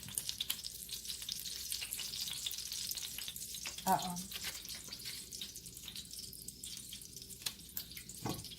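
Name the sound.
bacon frying in breakfast station oven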